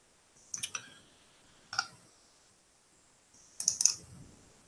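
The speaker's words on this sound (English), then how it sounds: "if I just double click here" Crisp computer mouse clicks, including quick double-clicks, in a quiet room: a pair near the start, a single click, then another pair of close clicks, all near and clear with no talking.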